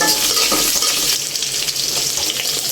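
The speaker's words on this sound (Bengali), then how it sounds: "চিংড়ি মাছটা একটু ভাজা হলে" Shrimp fry with salt in a pan, producing a dense, steady sizzle up close with faint clinks and shifting bursts of stirring, and no one speaking.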